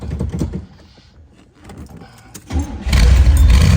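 A 1969 Chevrolet Corvette is started. After a stretch of quiet mechanical clicks, the starter cranks briefly and the engine catches into a loud, steady rumble up close.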